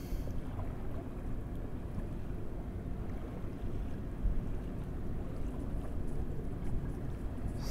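Outboard boat engine held at raised RPM against a freshly set Quickset anchor, a steady low broadband drone mixed with wind buffeting the microphone and water noise, continuous and fairly loud throughout.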